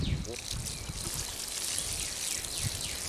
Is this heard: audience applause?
no